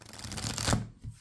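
A deck of tarot cards being shuffled by hand, a quick close riffle that builds to a sharp flurry of slapping cards, then a brief soft shuffle after a pause.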